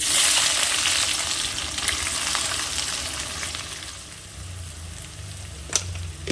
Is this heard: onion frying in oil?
yes